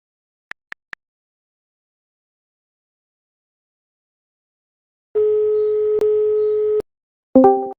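Telephone tones: three short quick beeps, a pause, then a long steady buzzing tone of nearly two seconds, followed by another brief tone burst at the end, all loud and clean with no talk.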